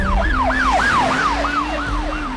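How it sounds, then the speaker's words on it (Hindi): An ambulance siren in an action film scene wails in fast, repeating rising-and-falling sweeps, loud and steady throughout, with no voices over it. "जब मैं फोन पे बात कर रहा था तो एम्बुलेंस का आवाज सुनाई दिया।"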